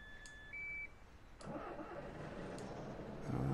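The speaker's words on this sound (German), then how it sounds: "ich muss ja die Karre erstmal in Gang bringen" A bus engine in the OMSI 2 simulator starts after a few warning beeps, then settles into a steady mid-pitched running drone that grows slightly louder, with no talking.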